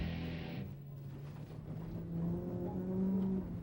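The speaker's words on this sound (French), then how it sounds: "Et là, on est à bord de la voiture de Philippe Corbeil qui s'apprête à prendre le départ" A rally car idles at the start line of a Quebec rally stage, recorded from inside the cabin, a low steady engine rumble that swells with light revving, fairly quiet and without voices.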